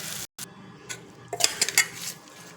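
Tamarind rice (pulihora) is mixed in a metal vessel with a spoon, producing close scraping and clinking strokes that cluster into a brief busier burst near the middle, with no speech.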